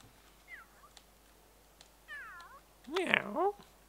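Cat meows from a character in the life-simulation video game The Sims 3: a short high mew, a second wavering meow, then a louder drawn-out meow near the end, with quiet background between.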